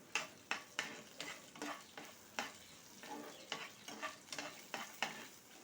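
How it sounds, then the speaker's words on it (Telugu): Coriander seeds and cumin frying in oil in a pan over medium flame, a soft sizzle punctuated by regular scraping strokes of a spatula about twice a second, close and quiet. "ఒక స్పూన్ ధనియాలు, హాఫ్ స్పూన్ జీలకర్ర కూడా వేసి మీడియం ఫ్లేమ్లో ఇవి కూడా కొద్దిగా ఇలా వేయించుకోవాలి"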